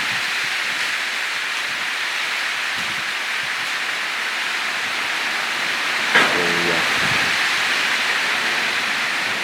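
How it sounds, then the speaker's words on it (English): Heavy rain pours steadily on a farm, a dense, even hiss that continues throughout with a brief knock partway through and no talking. "Rain when she comes down, she certainly comes down"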